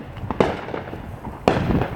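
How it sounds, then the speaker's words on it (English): Illegal consumer fireworks set off outdoors on a July 4th evening, two sharp bursts about a second apart, the second loud and followed by crackling, over a steady background of distant pops. "They're just out here watching those illegal fireworks."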